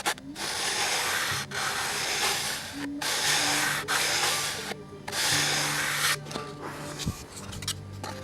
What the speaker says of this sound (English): This is just nothing but hours of sanding.